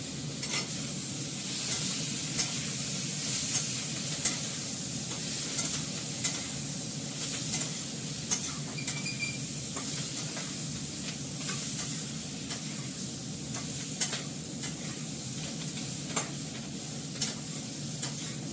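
A mixed spice blend sautés in a pan with a continuous soft sizzle. Regular light scrapes and taps from stirring repeat throughout, and no one talks.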